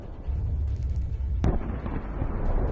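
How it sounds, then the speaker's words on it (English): Tank shelling on a battlefield in the Russia–Ukraine war, heard as a sharp, loud blast in the middle of constant rumbling, crackling combat noise, with the distant roar continuing around it. "One by one, the APCs explode under Ukrainian tank shelling."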